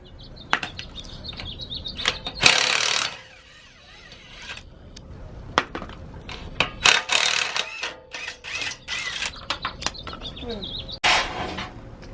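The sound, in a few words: removing the skid plate from a Toyota 4Runner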